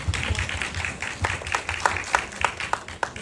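A short burst of scattered hand claps from a small group, uneven and close, rising into a few sharper claps before fading, from an audience at a post-screening talk at the Bucheon International Fantastic Film Festival.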